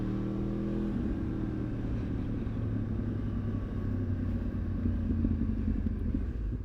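A motorcycle engine being rev-matched through gear changes from third down to first, a steady low rumble with mild swells as revs rise and fall, fairly close and moderately quiet, with no speech.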